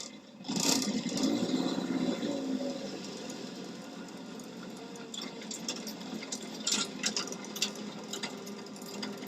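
A Land Rover Series 1 80 inch engine runs while the vehicle is driven on a bumpy road, a steady rattling mechanical drone with clunks and knocks rising and falling over the drive.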